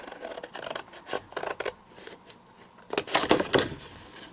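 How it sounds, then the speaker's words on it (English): Scissors snip through paper while a B6-size traveler's notebook is trimmed by hand, a series of close, crisp cuts and rustles in short bursts with pauses between them. "I'm just using my scissors by eye"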